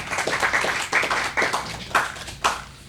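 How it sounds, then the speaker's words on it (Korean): Church congregation clapping in applause, a dense patter of many hands with rhythmic swells, fairly close and steady throughout. "우리 박수로 한번 해주시기 바랍니다"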